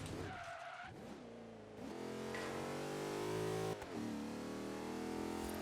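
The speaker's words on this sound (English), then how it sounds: "I slammed on the brakes there. You kind of heard me lock up a little bit." In Forza Horizon 3, a supercharged Land Rover Range Rover's tires lock under hard braking, giving a short skid squeal over the engine, then the V8 drones steadily as it rolls on, loud and close.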